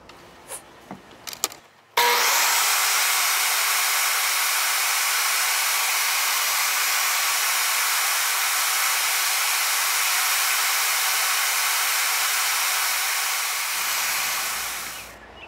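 A power saw cuts a wood board in a woodshop, spinning up abruptly and running as a loud, steady whining roar for about twelve seconds before winding down, with a few clicks beforehand.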